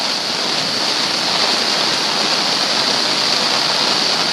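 Floodwater on Colman Creek in Little Rock, Arkansas rushes in a steady, loud, broadband roar that holds without pause, close by and dense, with no talk over it.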